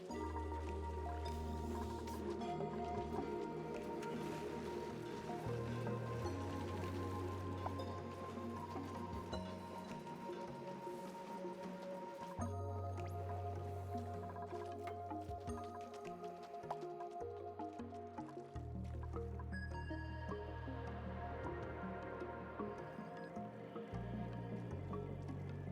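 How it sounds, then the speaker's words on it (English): Hot water drips and squishes in a slow irregular pattern in the Oxygen Not Included game, faint and close, set against a soft humming background tone with no voices. "We're still putting very hot water down here."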